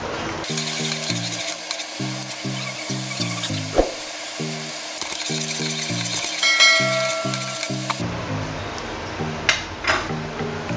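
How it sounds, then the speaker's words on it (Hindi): Milk with dissolved sugar boils in a pot for kheer, a continuous bubbling, sizzling hiss beneath a rhythmic backing music track. "तो यहाँ पे हमारा दूध जो है वो उबल रहा है, चीनी हमारी गल चुकी है अंदर"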